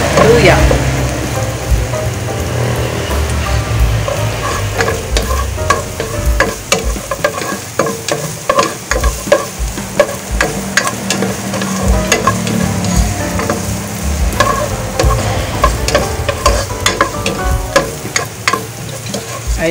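Ginger sautés with translucent onions in a pan, giving a loud, continuous sizzle with frequent clicks and scrapes from stirring. Faint voices may be present under the frying.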